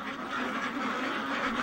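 Domestic ducks quacking continuously, several birds close and fairly loud together, a dense overlapping chorus with no speech.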